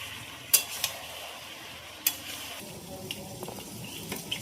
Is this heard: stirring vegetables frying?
yes